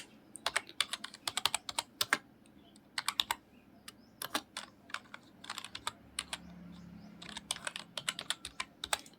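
Computer keyboard keys clicking in quick bursts of typing with short pauses between, close and fairly crisp against a quiet room hum, with no one speaking.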